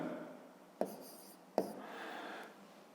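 A pen writes the letter V on paper during a fifth-grade geometry lesson, as two short, sharp strokes about a second apart, each followed by a soft scratching drag, close and quiet with no talking.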